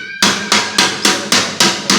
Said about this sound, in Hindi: चारों तरफ वार करेंगे इस तरह के हथौड़े से